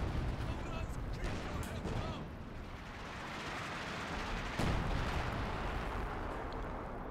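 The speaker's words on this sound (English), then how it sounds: "The artillery cannons nearly going to take out the T-70 now." Artillery cannon fire and explosions in a World War II tank battle video game, with a T-70 and Panzer IV in play, rumble as a continuous dense bed of booms with a sharp blast near the middle, under a commentator's talk.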